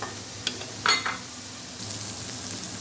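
Keema masala being fried in a kadhai for stuffed bitter gourds gives a quiet, steady sizzle, with a couple of brief utensil clinks near the start.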